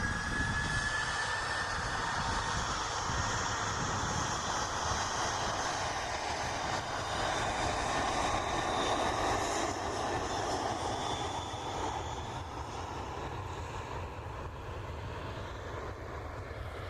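A jet aircraft departing Manchester Airport roars continuously at a distance, a broad steady engine rumble with a faint rising whine that slowly fades, no voices heard.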